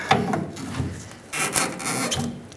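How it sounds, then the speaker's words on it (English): Rear shock absorber on a Ford F-350 being twisted and pried off its mounting stud, giving short close scraping and rubbing bursts of metal and rubber, with a quiet pause before a second longer grinding scrape. "now twist the shock and pry it so it can slide off that stud"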